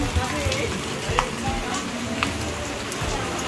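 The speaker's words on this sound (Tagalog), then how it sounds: "Ulan pa din." Steady rain falls outdoors late in the afternoon near a river, a constant hiss of drops with a few sharper splashes and faint low rumbles underneath, fairly quiet and without clear speech.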